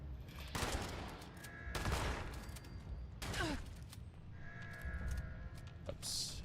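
Automatic rifle fire in the game Fallout 76, coming as several loud broadband bursts of rapid shots spread across the clip, with an electronic whine and some other game effects between the volleys.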